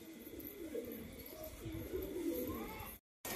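Pigeons coo softly at a distance, with a young pigeon nearby, in a low, quiet outdoor setting; the soft calls repeat over faint background noise before a brief silence.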